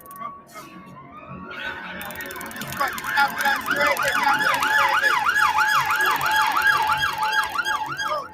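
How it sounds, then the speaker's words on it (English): Sirens wail in a rapid rising-and-falling pattern, starting faint and growing loud and close over several seconds. "I can hear the sirens of my colleagues turning up"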